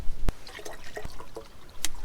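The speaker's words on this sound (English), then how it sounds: "So I'm going to go ahead and put 1 liter of water in here." Water poured from a bottle into a pot on a Camp Chef Stryker 200 camp stove gives a brief run of splashes, glugs and drips, close and fairly quiet, with a few sharp clinks mixed in.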